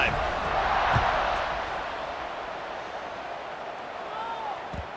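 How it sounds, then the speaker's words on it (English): A College Football 26 stadium crowd roars in a steady, distant wash of cheering at a kickoff, swelling slightly early, with a couple of short thumps. "this crowd is feeling themselves after that last drive"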